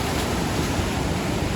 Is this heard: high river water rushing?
yes